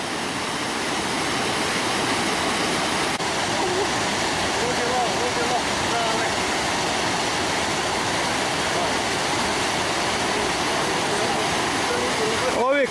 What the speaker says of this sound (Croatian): Prekrasni slap.